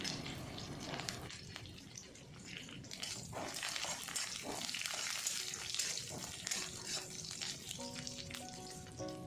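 Garlic and green chili fry in hot oil in a home kitchen, giving a soft, steady sizzle with some stirring clatter. It stays fairly faint beneath light background music.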